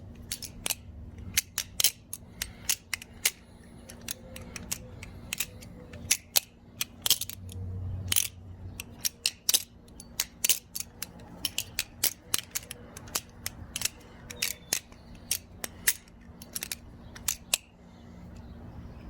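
An SVIX Co Zephyr balisong trainer is flipped continuously, producing rapid sharp metallic clicks and clacks in irregular bursts, close up with a faint steady hum behind and no talking.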